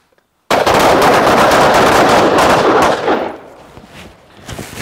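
A carbine fires a rapid string of shots at targets on a range, loud close reports packed tightly together and then fading into echo.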